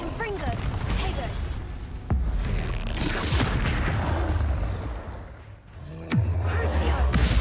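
Confringo fire-blast spell explosions in the Hogwarts Legacy video game, two heavy booming blasts with a low rumbling tail under busy game effects and shouting voices.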